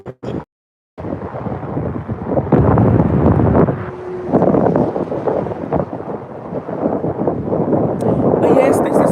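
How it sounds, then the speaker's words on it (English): Strong wind blows across a bridge, a loud continuous rumbling buffet against the microphone that gusts and swells throughout. "Catch that wind, boo."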